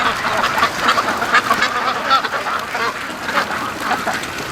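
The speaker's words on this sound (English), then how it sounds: "Alright, the ducks are home." Free-range ducks quacking in their pen, a dense, continuous chorus of overlapping nasal calls from several birds close by, with no talk.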